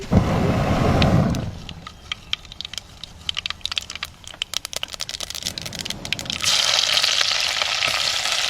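Curry ingredients fry in coconut oil in Sri Lankan home cooking: a loud, steady sizzle at the start and end, with a stretch of sharp, crackling pops in between.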